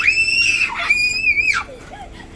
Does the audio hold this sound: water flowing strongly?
no